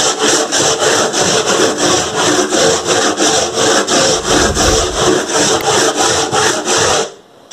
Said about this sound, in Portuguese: E eu vou lixar ela sentido ao fio da madeira.